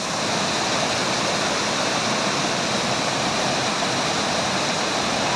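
Tubunon Falls in Agusan del Sur, a steady, loud, broadband rush of falling water that fills the whole stretch without a break.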